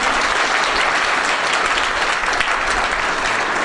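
Loud, dense applause from an audience at a public gathering, continuous close clapping throughout with no speech.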